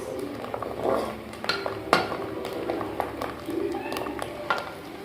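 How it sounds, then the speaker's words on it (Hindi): Chopped onions go into a pot for a bitter gourd chicken curry with a few sharp metallic clinks and scrapes and a soft sizzle, while a person talks nearby. "अब हम इसमें डालेंगे प्याज।"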